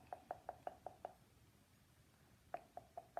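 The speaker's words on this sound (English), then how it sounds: "knock it, whatever, tap it. Just get the extra glitter off." Glitter-coated wine glass tapped against a surface to knock off loose glitter: a quick run of six light knocks, a pause, then four more, faint and close.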